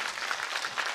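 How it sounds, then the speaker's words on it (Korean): Brief burst of audience clapping at a school information session for parents, a dense steady patter lasting about a second. "다시 한번 큰 박수 부탁드립니다"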